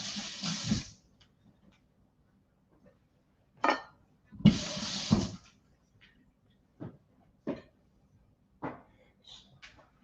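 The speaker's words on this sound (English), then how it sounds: "let me wash my hands" Running tap water splashes over hands being washed in a sink, in a few short gushes separated by quiet pauses, with faint handling clicks in between.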